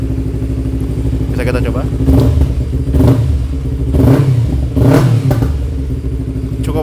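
A motorcycle with a DX aftermarket exhaust, no dB killer fitted, idles, then revs in several sharp bursts, loud and close, with a short spoken phrase over it.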